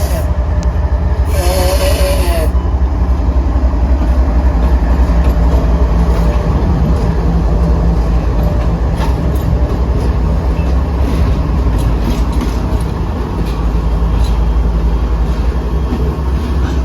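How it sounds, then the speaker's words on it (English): CSX locomotives 3398 and 5264 reverse through a rail yard, a steady loud low rumble of engines and rolling cars lasting throughout, with a brief high whine near the start. "3398 and 5264 reversed back to the CSX yard office"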